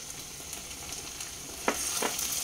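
Sauce goes into chilli fish in a hot pan over high flame, giving a steady crackling sizzle. Two brief scraping bursts mark the stirring partway through.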